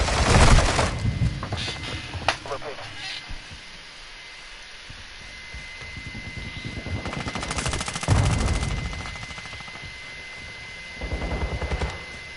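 Bursts of automatic rifle fire in Call of Duty Modern Warfare 2, loud rapid volleys at the start, around eight seconds and near the end, with quieter scattered shots and game noise in between.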